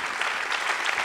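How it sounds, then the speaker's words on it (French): Brief burst of audience applause at the close of a talk at an economics conference, dense even clapping filling the room, fairly loud and close. "On peut l'applaudir."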